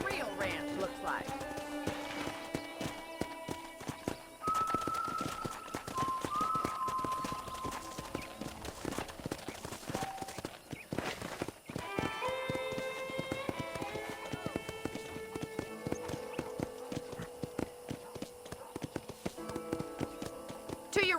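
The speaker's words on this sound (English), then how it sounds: "let's see if you can still ride a horse" Horse hooves clip-clopping and running in Red Dead Redemption, a steady rhythmic beat of hoofbeats with occasional whinnies, under in-game dialogue and musical tones.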